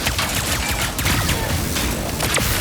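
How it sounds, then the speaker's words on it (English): Rapid-fire pistol shots from the Enforcer in the video game Ratchet & Clank, a dense continuous burst of sharp cracks with a constant loud level under a busy game soundscape. "pulling the trigger fully unleashes a rapid-fire spread that covers more area"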